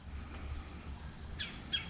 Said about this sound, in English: You hear the birds? Yeah, they're coming.